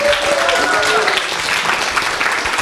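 Studio audience applause on a Russian makeover show, a dense steady wash of clapping holding at one level throughout, with a voice briefly audible near the start.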